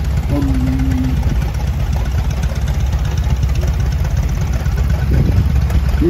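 A 1938 Allis-Chalmers B antique tractor idles at a steam and tractor show parade, a loud, steady low engine rumble throughout, with someone talking over a public address system.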